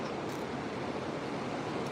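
Ocean waves wash up on a beach in a continuous broadband rush of surf, moderately loud and steady, without voices.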